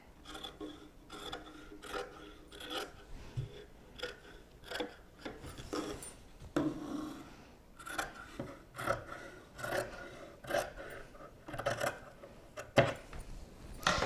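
Black fabric is trimmed for a notebook holder, giving a quiet series of soft, rhythmic rasping cuts and rubbing strokes close at hand, with no voices.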